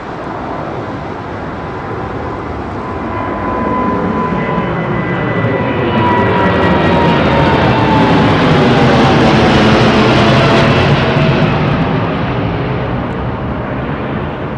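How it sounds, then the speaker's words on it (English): A Boeing 787 Dreamliner jet takes off from a runway at London Heathrow, its engines roaring loud and steady close by, the thrust swelling and holding with a rising whine as it climbs away. "That's full runway again for this Dreamliner."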